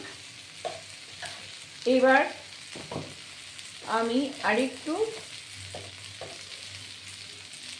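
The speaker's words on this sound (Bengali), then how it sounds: "দেখুন বেগুনটা আমার ভাজা ভাজা হয়ে এসছে" Eggplant pieces fry in a pan with a soft, continuous sizzle and occasional stirring scrapes. Someone talks intermittently over the sound.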